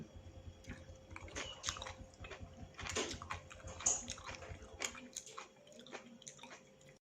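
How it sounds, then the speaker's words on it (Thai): Close, quiet chewing of cooked vegetables and mushrooms, with slow, soft bites and squishy mouth sounds repeating unevenly at a low level. "เรากินก็ค่อยๆ กินค่อยๆเคี้ยวไปเนาะ"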